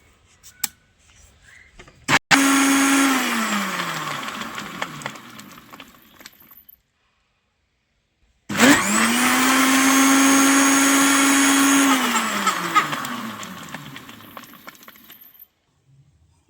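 A home blender whirs through sugarcane-style juice made without sugarcane in two long, loud runs, each revving up, holding a steady motor whine and winding down, with a short quiet pause between them.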